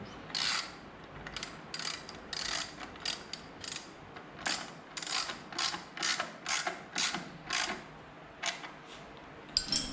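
A ratchet tightening the handlebar mount bolts on a Harley-Davidson Dyna Street Bob motorcycle, a close series of short clicking ratchet bursts in a regular rhythm with brief pauses between strokes.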